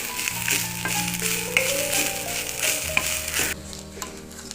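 Grated coconut roasting in a hot pan for a raw jackfruit erissery: a steady close sizzle and frying crackle with occasional scrapes of stirring, and a few sustained musical tones playing underneath.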